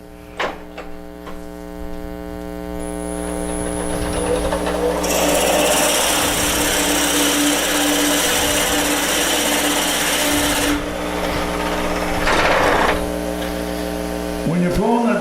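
A steady motor drone with a rasping, grinding bore building in the middle: a drill cutting into a wooden peppermill blank on a running lathe, close and loud.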